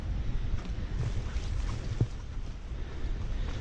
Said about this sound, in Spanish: Pero qué bonita la cascada, mis amigos.